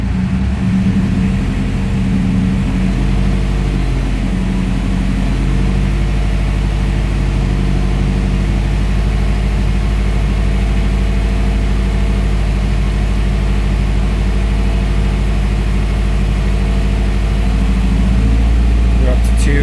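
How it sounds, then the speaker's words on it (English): A car engine held at elevated revs during a coolant flush and thermostat replacement, with the AC running; a loud, steady low drone that barely varies in pitch, continuous throughout with low background talk. "I've been revving the engine, letting it like go up to like 15."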